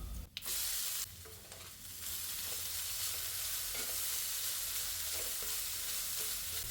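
Dried red chillies, urad dal and grated coconut fry in hot oil for a Kerala tapioca thoran, a steady loud sizzle with a brief burst as ingredients drop in near the start, then continuous crackling with no voices.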